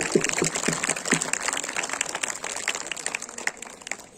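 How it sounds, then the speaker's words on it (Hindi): Audience applause for a teacher at a school foundation day event in a hall, steady dense clapping throughout, moderately loud, with a few voices underneath. "एक बार जोरदार तालियां मैम के लिए।"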